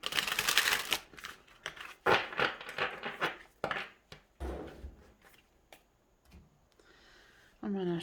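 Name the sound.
shuffling tarot cards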